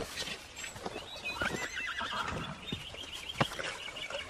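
A horse whinnies amid scattered clopping hooves and shuffling, moderately close, with a sharp snort or knock near the end.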